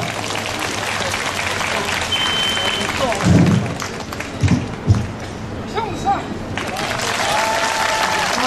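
Applause from an outdoor crowd at a large national rally in Seoul as a retired army colonel, a former women's corps commander, is welcomed to the stage. It is a broad, steady wash of clapping with crowd noise and a few louder bursts in the middle.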